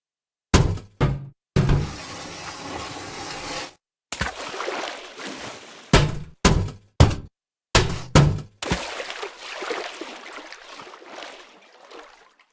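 Metal and water impact sounds from a physics demo, a string of sharp separate clanks and splashy crashes, some short and some ringing out longer, loud and close with brief silent gaps between hits.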